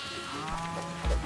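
A single bleat from a billy goat in the video game Moving Out 2, brief and fairly close, over a steady low background hum.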